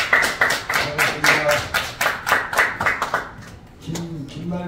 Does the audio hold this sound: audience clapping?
yes